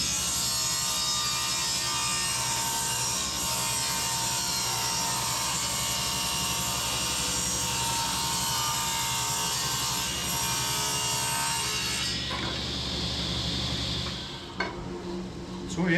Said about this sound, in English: I set the saw to a 10-degree angle. And I'm going to put this long straight side against the fence, and we'll rip that